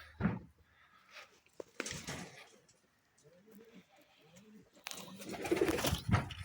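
Soft, low pigeon coos repeat through the middle, between louder rustling, flapping bursts at the start and end, at a rural homestead.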